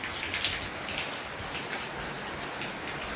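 Steady rain falls in a village setting, a dense, even patter of drops hitting surfaces at moderate distance, continuous and without speech.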